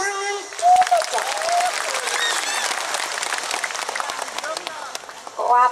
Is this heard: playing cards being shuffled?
no